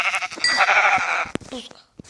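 Sheep bleats in a video game, a wavering, fairly loud cry over the first second and a half, followed by a few short clicks and a brief later blip.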